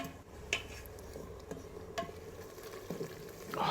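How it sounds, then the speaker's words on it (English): A spoon stirs and scrapes beef stew in a pot, giving soft intermittent scraping clinks and scrapes over a low simmering sizzle. The sounds are quiet and close, with no voices. "Remember to stir them, and of course, scrape the bottom."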